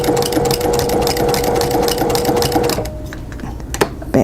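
A sewing machine stitches a soft baby comfort blanket, running in a steady, fast mechanical hum with rapid needle clatter for most of the span, then stopping, followed by a few quieter handling clicks and knocks.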